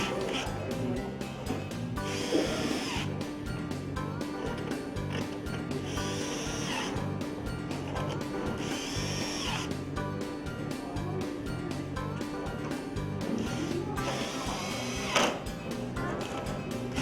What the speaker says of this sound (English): Now install 5 fixed panel screws in the head and 4 in the jamb, being careful not to overdrive any of the screws.